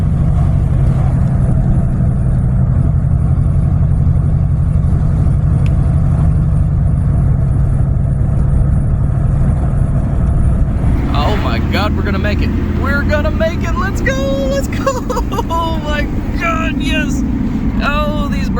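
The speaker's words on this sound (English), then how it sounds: "I've got my foot to the floor and 50 is about as fast as we can go." A 1996 Ford Explorer engine with a blown engine drones loudly and continuously at full throttle, topping out near 50 mph, with road noise, while people talk over it in the second half.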